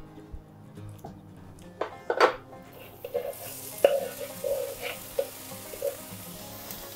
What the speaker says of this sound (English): we will dice an onion and fry it in a mixture of olive oil